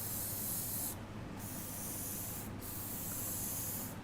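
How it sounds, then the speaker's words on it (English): An airbrush sprays paint onto a woodturning during live lattice-pattern decorating: a steady, close, bright hiss that cuts off briefly twice as the trigger is released and restarted, with no talking. "I'm moving the brush and then starting the spray"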